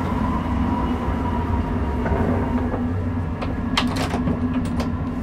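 Inside a moving luxury passenger train in Spain, a steady, loud rumble of wheels and carriage fills the whole stretch, with a few sharp clicks and rattles near the end.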